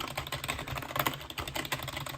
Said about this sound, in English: If you like a clicky keyboard.